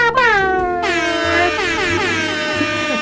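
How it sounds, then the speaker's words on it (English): A loud, sustained air horn blares for about three seconds, its tone dipping slightly at the start. "This segment is called Cue the Air Horn"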